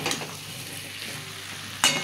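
A vegetarian vegetable curry sizzles and fries in a pan while being stirred, a steady close crackle with a louder scrape or burst near the end.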